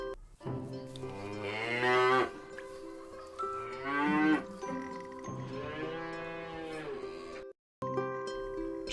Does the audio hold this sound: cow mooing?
yes